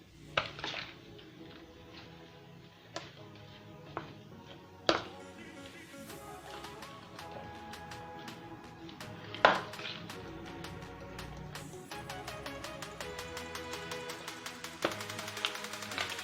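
A samosa filling with crushed chilies is mixed in a bowl, giving scattered clinks and taps of a spoon against the bowl, fairly quiet with a few sharper knocks and a busier stretch of rattling toward the end.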